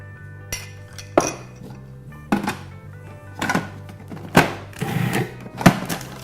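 A stand mixer works butter-rich pie crust dough for apple pie: a low steady motor hum under irregular thunks and clinks as the dough knocks against the bowl, with the knocks growing more frequent.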